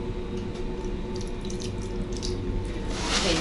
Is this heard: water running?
yes